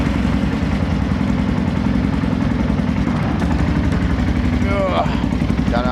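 A Bombardier 650 quad's engine runs at a steady, loud idle throughout, a continuous low rumble with a person talking briefly over it near the end.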